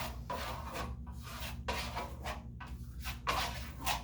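A small trowel scrapes Grassello Fino Venetian plaster onto a wall in a third coat, soft close rubbing strokes repeating in a steady circular rhythm.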